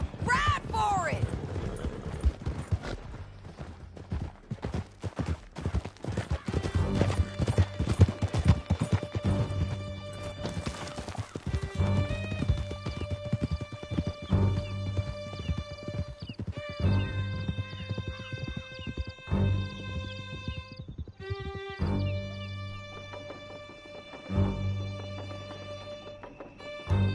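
Horses galloping hard through a video game canyon chase: steady clip-clop of hooves with whinnies and neighs, under a musical score and shouting voices, the sound holding loud for the whole stretch.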